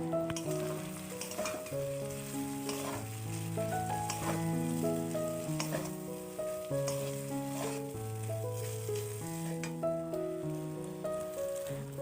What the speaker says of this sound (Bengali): ভাজা ভাজা হয়ে এলে এর মধ্যে অল্প অল্প নুডলস অ্যাড করব আর ভালো করে নেড়ে চেড়ে নেব।